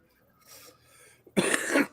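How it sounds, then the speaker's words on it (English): A man at a casual paint party gives a faint throat-clearing rumble, then a sharp, loud burst of coughing up close, a short harsh fit lasting under a second. "I'm tired of coughing"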